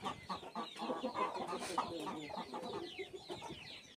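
Farm chickens, including a hen kept as a mother to newly hatched chicks, cluck softly and continuously in a quiet, busy chatter of short overlapping calls.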